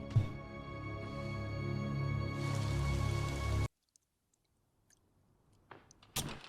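Rain falling in an anime episode, a dense steady patter with a tonal music bed that cuts off abruptly after a few seconds, leaving near silence with a few faint clicks and rustles.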